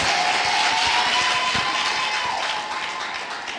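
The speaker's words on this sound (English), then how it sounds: "Shall we clap for Jesus?" A church congregation claps for Jesus in a sustained, dense wash of applause that holds steady and then slowly thins out, with a faint tone running beneath it and no talking over the clapping.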